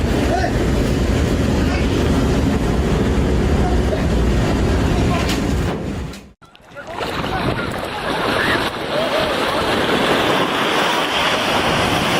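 Loud roaring surf and rushing wind batter the microphone, broken by a brief sudden drop before the turbulent crash of water resumes.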